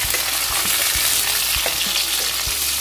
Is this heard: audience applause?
no